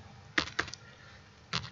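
Quiet computer keyboard typing: two quick key clicks, a pause, then another soft cluster of keystrokes, close up with no speech.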